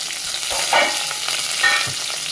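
Green chillies sizzling in a pan for paneer fried rice, a continuous frying hiss with a couple of short stirring scrapes, no voices.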